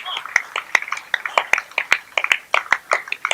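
Audience clapping at a live Hindi comedy poetry show, a fairly steady run of sharp, close claps lasting a few seconds.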